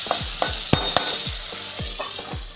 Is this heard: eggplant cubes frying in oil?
yes